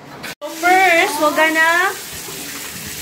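A steady rush of tap water pours into a bathtub, filling it for a bubble bath, while a voice talks over the running water.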